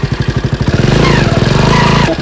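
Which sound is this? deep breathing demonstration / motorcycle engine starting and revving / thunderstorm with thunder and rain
motorcycle engine starting and revving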